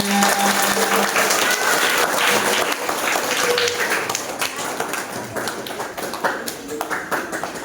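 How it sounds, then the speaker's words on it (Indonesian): A school audience at a library storytelling event claps together, a dense, loud run of applause lasting several seconds with some voices and tapping mixed in, easing slightly toward the end. "Tepuk tangan untuk teman-teman semuanya"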